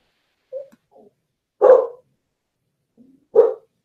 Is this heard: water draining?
no